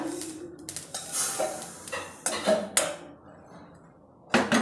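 Roasted sesame seeds are scraped and tipped from a kadhai onto a plate, giving a series of close scraping, rattling bursts with clinks of a spoon against metal, ending in a louder clatter.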